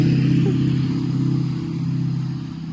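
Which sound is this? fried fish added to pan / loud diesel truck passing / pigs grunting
loud diesel truck passing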